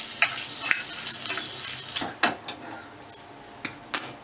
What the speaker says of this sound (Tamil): கடுகு சீரகம் மறுபடியும் கொஞ்சம் பெருங்காயம் போட்டு தாளிக்கலாம்